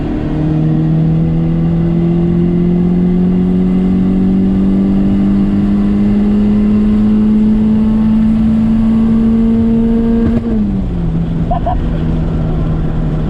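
Turbocharged Honda Civic engine at full throttle, a loud sustained drone rising steadily in pitch for about ten seconds before dropping sharply, with faint talk briefly at the end.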